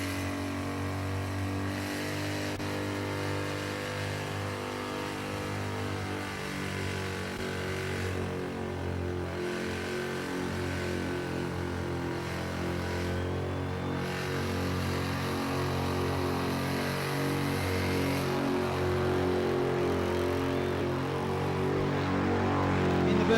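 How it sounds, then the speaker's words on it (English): At Summernats, a car performs burnouts in the burnout pit, its engine held at a steady high-revving drone that builds slightly louder toward the end, heard from a distance with crowd ambience. "Burnout pit, 360s coming your way, lots and lots of smoke."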